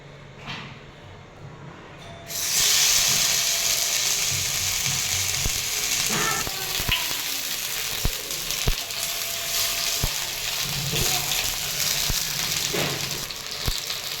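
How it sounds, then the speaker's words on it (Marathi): Colocasia leaf rolls (alu vadi) shallow-frying in oil in a pan, a steady broadband sizzle that jumps louder after a couple of seconds and holds, broken by occasional sharp clicks and taps. "तर तेल टाकून घेतले आणि दोन्ही साईडने छान भाजून घ्यायचे आहेत आपल्याला"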